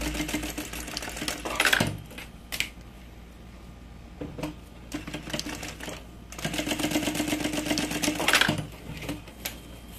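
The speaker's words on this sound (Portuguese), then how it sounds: "Agora, a gente só passa uma costura aqui pra segurar e deixar fechadinho no lugar" A sewing machine runs stitches along a fabric seam, holding a closed section in place, in bursts of rapid mechanical whirring separated by short pauses and clicks, close and steady.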